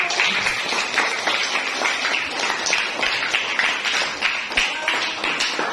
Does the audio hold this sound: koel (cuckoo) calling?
no